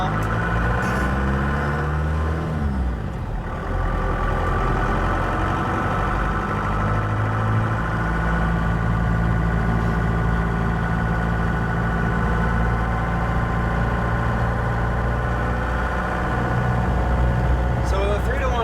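A Ford F150 pickup with a manual transmission pulls away in second gear on light throttle, its engine giving a steady low drone with harmonic rumble that continues without a break for the whole stretch.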